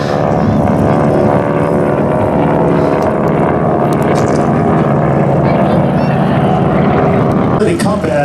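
Replica Tora! warplanes, vintage propeller aircraft, pass overhead at a Texas airshow, a loud steady engine drone holding the whole time with wind buffeting and an announcer's voice running over it.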